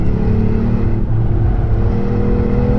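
A Ford Puma ST engine pulls hard and steady after a shift into third gear on a road with a tightening corner. The drone is loud and continuous and is heard from inside the car.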